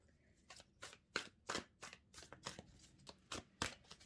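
A new Arcanum Tarot card deck is shuffled up close in a quiet room, a run of about a dozen crisp riffling bursts in a loose, even rhythm with no voices.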